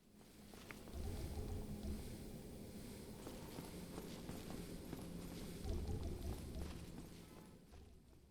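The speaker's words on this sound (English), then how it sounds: "I love the sound that these guys make when they walk around. The little footstep sound." Enemy footsteps from the video game Dark Souls, a steady run of soft clip-clop steps at walking pace over a continuous low ambient rumble, moderately loud, no talk.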